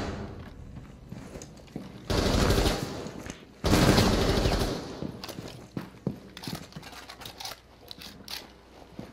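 Automatic gunfire in Rainbow Six Siege on the Chalet map, a competitive pro league match. Two loud sustained bursts of rapid fire are followed by scattered single shots and clicks against quieter game background.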